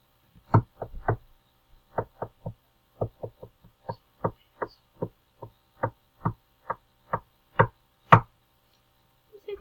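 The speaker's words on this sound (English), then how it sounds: "Knock, knock, knock." A series of sharp knocks in quick clusters of two and three, repeated steadily against a quiet background.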